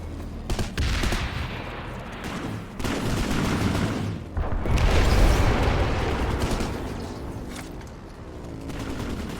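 Gunfire crackles in Planetside 2 as a squad breaches a room, with heavy bursts, rattling automatic fire and a booming blast midway, dense and loud throughout.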